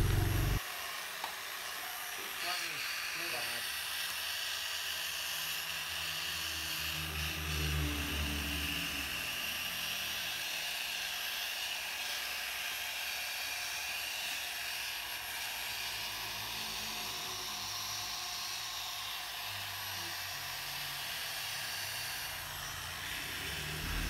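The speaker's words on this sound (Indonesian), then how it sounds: "Kita naikkan ke speed 2 untuk memaksimalkan hasil poles supaya baret-baret bisa dihilangkan" A rotary polishing machine set to speed 2 buffs scratched Honda Vario scooter body panels, producing a steady whirring motor drone that holds unbroken for the whole stretch, with no voices.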